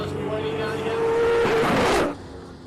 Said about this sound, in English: the sound of that car is just music